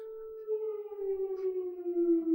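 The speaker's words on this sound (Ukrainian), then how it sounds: "повітряна тривога" A civil defense air raid siren wails steadily, a sustained tone that slowly falls in pitch, heard outdoors at moderate distance with faint background noise.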